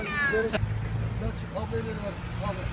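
Rescued kitten, one of two saved from traffic, gives a few short high meows over steady road and engine rumble, with people talking nearby.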